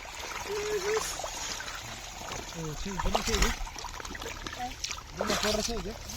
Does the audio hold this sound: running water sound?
yes